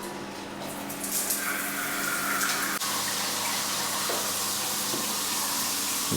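A bathroom shower fixture in a house in Oliva, Spain runs at full flow, a steady close hiss of spraying water splashing onto the floor, with no talk over it.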